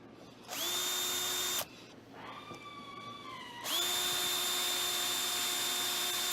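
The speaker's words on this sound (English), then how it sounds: "I'm just going to use a unibit, and of course it's nice to have a piece of wood here to drill through." A power drill spins a unibit step drill through a piece of wood, whining steadily at high speed in two long bursts with a short lower-pitched stretch between them, loud and close.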